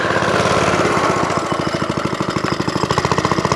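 Suffolk Corporation Mk2 vintage lawnmower engine running close by, a loud steady drone that settles into a rapid, even chugging beat.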